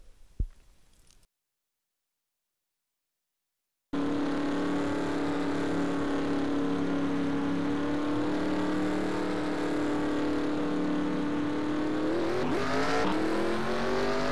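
A pack of stock cars roars at a steady, loud pitch on the Bristol track at the start of the Bristol 200, following a short burst of noise and a few seconds of silence, with engines rising near the end.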